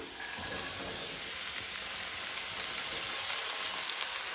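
Cluster beans and potato hit hot oil with fried onion for a Goan bhaji, giving a steady, close sizzling hiss with small crackles and pops throughout.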